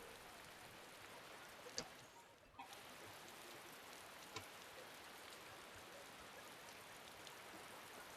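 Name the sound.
rain falling in a town, from the video game Tales of Berseria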